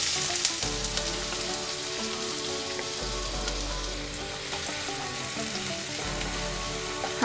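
Onion frying with black peppercorns, a piece of cinnamon and cardamom in hot oil for a palak chicken dish, a steady dense sizzle with crackling that holds close and loud throughout, with no talk.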